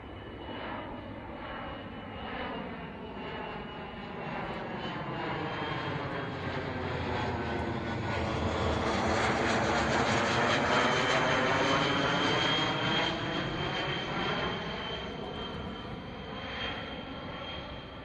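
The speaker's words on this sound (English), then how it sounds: "ATTAS is arriving in the final lap of the flown helix." DLR ATTAS research jet aircraft flying the final lap of a helical noise-abatement approach, its engine roar swelling steadily as it passes overhead, with a pronounced sweeping, phasing tone, then fading slightly.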